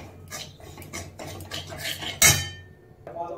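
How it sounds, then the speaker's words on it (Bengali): Semolina stirred and toasted in a wok, with scraping and clinking of a utensil against the metal pan in irregular strokes, one sharper knock near the end, close and moderately loud with no talk. "এবারে কড়ার মধ্যে সুজিটাকে দিয়ে দিলাম।"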